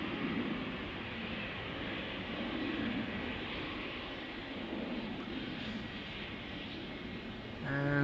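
An Airbus A321 departing Amsterdam Schiphol gives a steady, moderately distant engine roar that holds evenly throughout, rising slightly right at the end.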